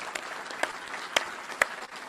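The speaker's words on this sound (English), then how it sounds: "So big round of applause for all of them, please." A few scattered, separate hand claps sound faintly at a US Army Cyber Command change-of-command ceremony at Fort Gordon, spaced irregularly over a quiet room with no sustained ovation.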